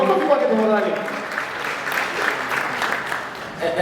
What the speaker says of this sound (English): Please a round of applause for our CEO.